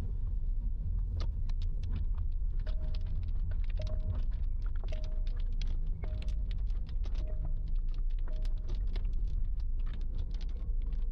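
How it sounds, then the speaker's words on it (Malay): Steady rain patters and drums on a car roof, a dense continuous wash with scattered sharper drops, no voices. "Hujan sejuk macam Cameron guys."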